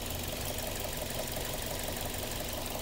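A Toyota Altis engine idles with a steady, faint mechanical knocking running through the continuous engine noise after long running.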